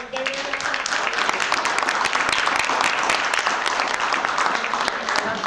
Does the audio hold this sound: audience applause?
yes